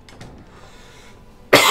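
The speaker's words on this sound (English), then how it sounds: "I'm sorry for the coughs" A single sharp cough bursts out near the end, loud and close, after a stretch of near-quiet with faint low background murmur.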